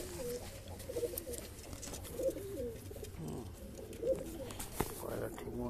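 A domestic pigeon coos in soft, repeated low bursts, close and fairly quiet, with faint background rustling between calls.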